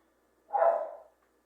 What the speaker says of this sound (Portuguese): os cachorros não param. Não param de latir.